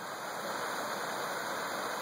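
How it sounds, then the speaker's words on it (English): A small waterfall at a Yellowstone National Park campsite gives off a soft, even rush of falling water, steady and moderately distant, with no voices over it. "Right behind me, we have a sweet little waterfall"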